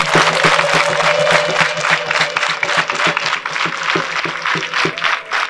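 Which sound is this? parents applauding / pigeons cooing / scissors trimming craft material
parents applauding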